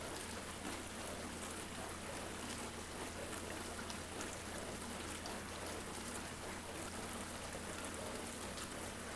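Hotpoint, Indesit or Ariston dishwasher filling with water while its turbine spins, a steady, even rushing hiss of flowing water with a faint low motor hum beneath, continuous throughout.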